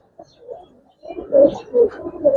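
Giribaz pigeons of the anar-eyed makra colouring type cooing in soft, repeated rounded calls, close by, the later coos louder and fuller, with no talk over them.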